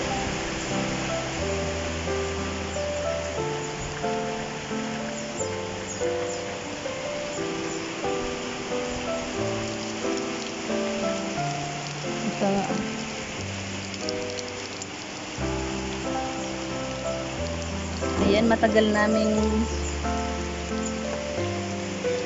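Heavy May rain pours steadily in Claveria, a dense continuous hiss on surfaces with a few louder spatters, while someone talks briefly and music plays underneath.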